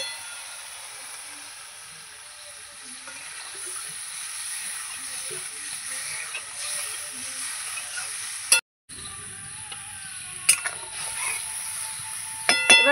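Water poured into a pan of hot fried spice paste while cooking a pabda fish curry, giving a steady close sizzle and hiss that flares with sharp crackles near the end.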